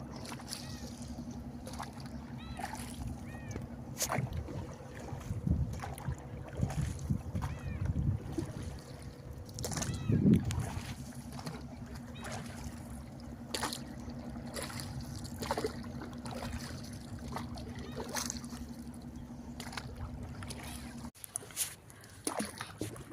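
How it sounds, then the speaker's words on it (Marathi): Fishing boats moving on Gorai creek produce a steady low engine drone with wind buffeting and occasional splashes, continuing for about twenty seconds before cutting off abruptly. "आमच्या इथे बोटी कशा चालू आहेत ती वरची बोट आमची गोऱ्या खाडीवरची बोट आणि बाकी मच्छीमारांच्या बोटी आहेत"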